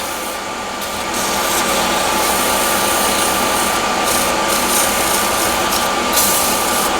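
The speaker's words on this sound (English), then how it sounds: "I'll do that with the sandpaper, just a little bit." Sandpaper rubs steadily against a hornbeam box to ease a snug suction-fit lid, a close continuous abrasive hiss with faint rhythmic strokes, alone without talk.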